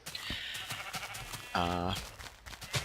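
A single short sheep bleat from the Minecraft video game rings out briefly in the middle, set against quiet clicks and low background noise.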